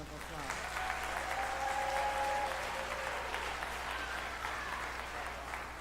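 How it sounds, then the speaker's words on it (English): Audience applause fills a school auditorium at an elementary graduation ceremony as a crowd claps for the graduating class, steady and sustained throughout, with faint voices underneath. "let's give the entire class one more round of applause"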